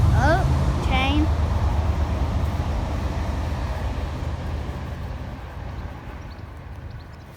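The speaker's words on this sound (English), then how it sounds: "Oh, train." A train passes by outdoors, a steady broad rumble that fades gradually over several seconds, with brief speech and a voice at the start.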